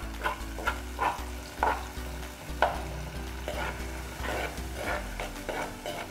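Curry leaves and spices sizzle and crackle in hot oil for a Sri Lankan fish curry, with steady frying hiss and repeated stirring scrapes in the pan, close and moderately loud, no talking.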